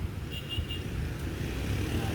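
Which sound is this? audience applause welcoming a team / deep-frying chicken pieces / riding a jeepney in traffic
riding a jeepney in traffic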